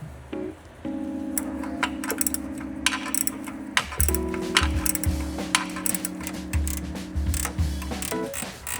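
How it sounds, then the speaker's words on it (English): A wrench works on the exhaust bolts of a Nissan 350Z: repeated ratcheting clicks and metallic scrapes in bursts, close and fairly loud, with short steady squeaks in between. "I'm using a 15 on them because I don't have any nice standard wrenches that can reach in these spots."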